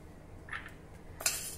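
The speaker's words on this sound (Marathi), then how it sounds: "सर्वप्रथम एका कढईमध्ये आपण 2 टेबलस्पून चना डाळ म्हणजेच हरभऱ्याची डाळ घालूया" Two tablespoons of chana dal tip into a kadhai, giving a brief, quiet rattle of dry lentils with a light metallic clink near the end.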